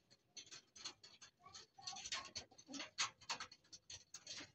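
A banded homing pigeon returns to a rural loft in Sibalat, Magsaysay, producing close, irregular wing flutters and scuffling pats, with soft cooing mixed in and no voices.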